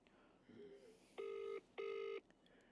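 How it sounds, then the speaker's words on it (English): A telephone ringing through a speakerphone, two electronic ring bursts with a short gap, after a brief bit of faint background noise. "It's ringing."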